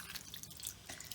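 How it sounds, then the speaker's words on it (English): Water from a tap runs over a human hair wig being washed from the roots down to the ends, a soft, steady, close trickle and spatter, faint and continuous with no talking. "let the water run from the root area down to the actual ends"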